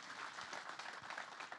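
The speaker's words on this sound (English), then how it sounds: "let's give Admiral Richardson a great big round of applause." A forum audience gives a brief round of applause, scattered clapping heard faint and distant for a second or two.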